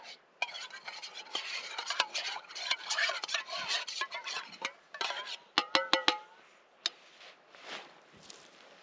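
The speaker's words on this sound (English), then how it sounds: "Time to do dishes." Dishes get washed at a snowy backpacking camp: utensils scrape and stir in a pot, then metal cookware clinks in quick, close bursts before trailing off into quieter clatter.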